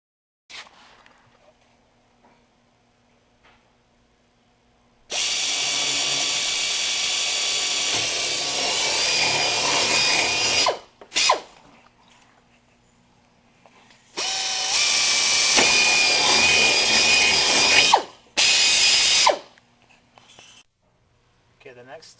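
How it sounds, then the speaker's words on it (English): Two long bursts of a high-pitched power drill whining through fiberglass with a 1/4 inch bit, each lasting several seconds, with short spurts afterward and quiet gaps between. "You're going to take your 1/4 inch drill and you're going to drill."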